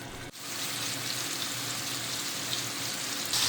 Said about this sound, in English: in the same pot with the same steak seasoning and juices, I'll also cook up the mushrooms